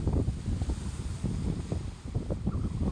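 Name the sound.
strong sea waves at Batangas beach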